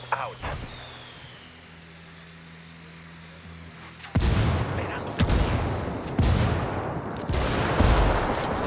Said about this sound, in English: Call the rebels for some indirect fire.